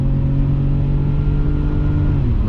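A BMW E34 with an automatic gearbox kicks down, its engine revving hard toward redline: a loud, continuous engine drone heard from inside the car, rising slightly in pitch near the end.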